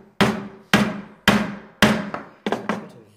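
Mallet blows drive a chisel into wood to cut a mortise, six sharp knocks in a steady rhythm, each ringing briefly and decaying, close and alone.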